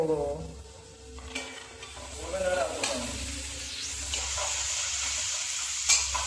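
Onions frying in a pan at a group feast held at a gym, with a steady sizzle and the occasional scrape of a stirring utensil, while voices murmur nearby.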